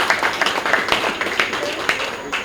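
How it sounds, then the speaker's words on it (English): An audience at an awards dinner and fundraiser gives a round of applause, with dense, steady clapping that holds at an even level for a couple of seconds. "Round of applause,"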